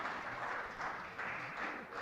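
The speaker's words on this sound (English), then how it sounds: "let's have another round of applause for our two players, the Caltex Good Sports" Applause for two players after girls' finals at a school squash teams championship, steady clapping that sounds fairly distant and quiet for the whole clip.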